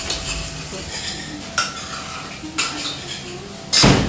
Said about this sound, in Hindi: इसमें डालते हैं हम प्याज, पहले इसको लाल करते हैं।